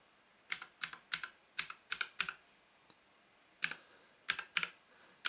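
Bursts of typing on a JK-TECH E-Element Z-88 mechanical gaming keyboard, with sharp close clicks in two quick runs of keystrokes separated by a short pause, with no talking.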